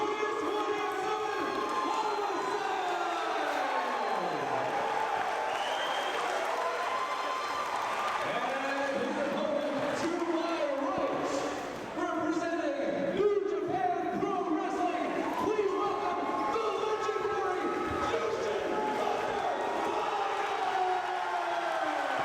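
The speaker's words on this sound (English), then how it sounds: "The crowd, wow." A packed wrestling crowd at a Jersey All-Pro show roars and cheers as Jushin "Thunder" Liger appears, loud sustained shouting and whooping with scattered clapping throughout.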